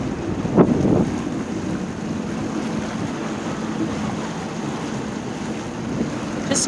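A jet ski cruises over open water with a steady low engine drone mixed with rushing wind and water noise, continuous and close, no talking.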